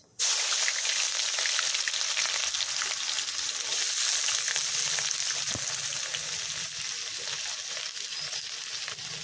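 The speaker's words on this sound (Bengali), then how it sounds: "এবার দিয়ে দিচ্ছি কুচিয়ে রাখা পেঁয়াজ।" About 250 grams of chopped onions hit hot oil already frying cloves and whole cumin for a homestyle mutton curry, giving a loud, steady sizzle that runs the whole time without speech.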